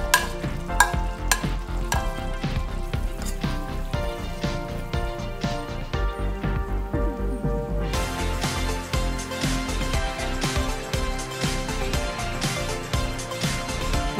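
Squid going into a hot pan and sautéing for ginisang pusit, with steady loud sizzling and frying plus repeated clinks and stirring scrapes, a brief quieter stretch midway, then denser crackling as cooking continues.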